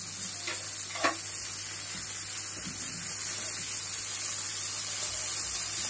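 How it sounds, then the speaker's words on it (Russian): Steady soft sizzling of fish fillet frying in a pan over raised heat, with a couple of brief clinks of a utensil early on. "Добавляем огонь и жарим"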